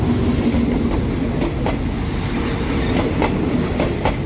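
A Thai passenger train rumbles steadily along the rails, with rhythmic clickety-clack of wheels over joints and a constant low roar, loud and close.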